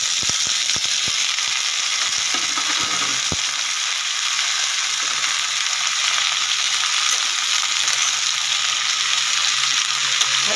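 Vegetables and spices fry in a pan for a broken-rice dish, giving a continuous even sizzle, with a few sharp stirring knocks near the start, close and steady, no voices.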